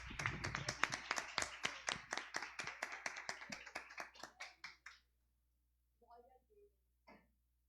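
Church congregation at a mission service clapping in a burst of sharp, fairly sparse claps that thin out and stop, followed by near silence and a couple of faint vocal sounds.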